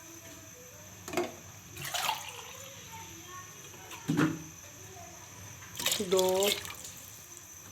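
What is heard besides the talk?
water poured into a pot of mixed dal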